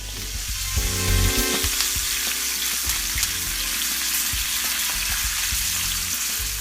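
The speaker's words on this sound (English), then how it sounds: "add your butter, garlic, and thyme, and you're just going to take that butter sauce and baste it all over your steak." Steak sizzles steadily in a pan as butter, garlic and thyme are basted over it, a close, continuous frying hiss with occasional louder spoon-scraping clatters and no talking.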